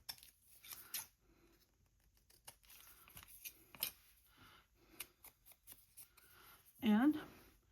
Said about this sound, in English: just trim this down a little bit